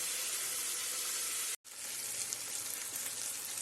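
Onions fry in a pan with a steady, dense sizzle, close and loud, broken by one brief near-silent gap partway through before the sizzle resumes just as strongly; no talking.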